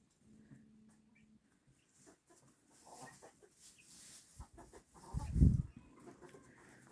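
Chickens clucking outdoors near sheep kept in a yard, soft scattered clucks and rustling at a distance, with one louder low burst near the end and no talk.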